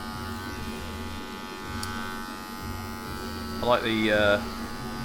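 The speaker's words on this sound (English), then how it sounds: "lightness of this clipper" An electric hair clipper running steadily at a barbershop while a fade is being cut, a constant buzzing hum throughout, with a voice briefly speaking near the end.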